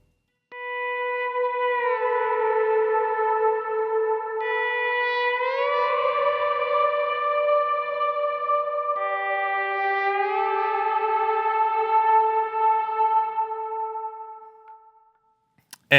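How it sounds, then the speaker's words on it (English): Clean electric guitar with echo, playing a slow slide line that hovers around the 1 chord and glides up to the fifth, major third and second, with long sustained notes bending smoothly between pitches before fading out. "I'm gonna kind of sit around the 1 chord, kind of like suspending it, sliding up to the perfect 5th"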